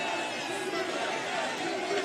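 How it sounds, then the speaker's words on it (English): A large crowd at a Trump rally in the Bronx, New York, chants in unison as a dense roar of voices, continuous and loud, heard from within the crowd. "I think they start chanting USA right there."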